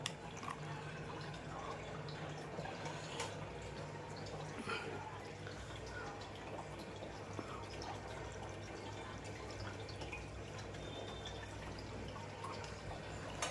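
Steady running water with faint dripping and trickling into a fish aquarium during a water change, a continuous low hum underneath, no talking.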